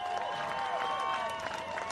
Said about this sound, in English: let's give the ladies a nice big round of applause